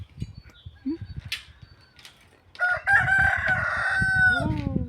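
A rooster crows loudly and close by among clucking chickens on a rural Ukrainian farmstead in the morning, the long drawn-out call following some softer scratching and clucks.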